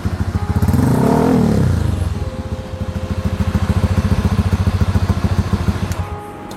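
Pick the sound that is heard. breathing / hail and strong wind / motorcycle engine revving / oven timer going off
motorcycle engine revving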